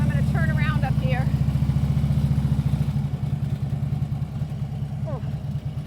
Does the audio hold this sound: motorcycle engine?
yes